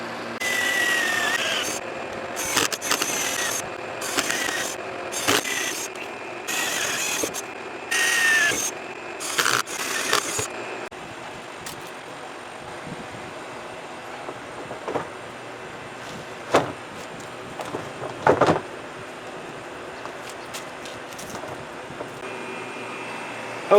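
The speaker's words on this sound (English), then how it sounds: "I'm going to take and drill some holes on the back side to allow that to be the inlet" A power drill drilling holes in a plastic cooler whirs in a run of short, loud bursts with brief pauses, then gives way to quieter scraping and handling noises.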